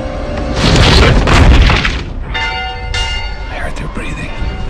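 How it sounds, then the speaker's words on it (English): A warning bell rings out in a village, its sustained metallic tones emerging after a few seconds of heavy, booming rumble, with a loud, dense dramatic soundtrack continuing throughout. "Heed the warning bell, for they are coming."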